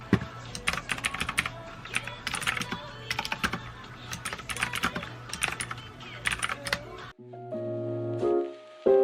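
Fingers type on a rainbow computer keyboard, close and crisp, with rapid irregular key clicks in bursts. It ends in a brief pause and then a different tonal hum, with no talk.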